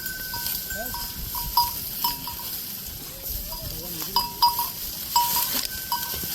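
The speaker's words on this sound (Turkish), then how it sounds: "Kara keçi diye geçiyor." Black goats bleat now and then over a steady farmyard hum, with faint clinks and rustling in the background, in a hilltop park.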